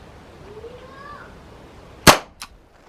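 An Umarex TPM1 air pistol shot strikes a fruit target outdoors: one sharp, loud crack followed by a fainter second impact, after a faint whistling sound and quiet ambience.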